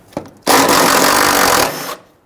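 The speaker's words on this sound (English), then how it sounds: "Then we'll use our 12mm socket and extension." A 12 mm socket on an extension loosens bolts on a 2006-2012 Toyota RAV4 3.5L V6 while the fuel vapor charcoal canister is replaced. There is one close, loud, steady buzzing whir of a power driver, about a second and a half long.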